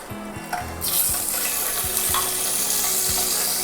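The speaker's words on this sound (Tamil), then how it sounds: "இப்போது நம்ம அவிச்ச முட்டையை வந்து இதில் போட்டுருவோம்." Boiled eggs go into hot oil in a pan for Burmese egg curry, setting off a sudden loud sizzle that holds steady and continuous after a few light clinks of the pan.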